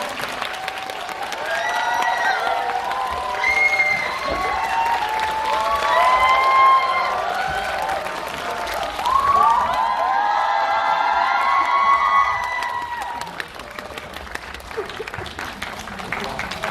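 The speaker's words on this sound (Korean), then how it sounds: "큰 박수 부탁드립니다." Loud applause from a big audience at a film live talk event, with cheers and whoops rising over the clapping, swelling midway and then gradually thinning out.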